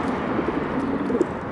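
Pigeons coo softly in short low murmurs under a steady background hiss, close by and brief.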